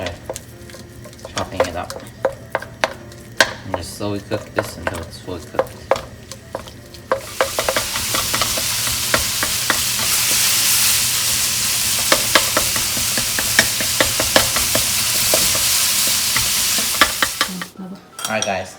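Ground pork cooks in oil in a wok, first with scattered scraping and clinking of a utensil, then a loud sustained sizzle with continued stirring and scraping that stops abruptly near the end.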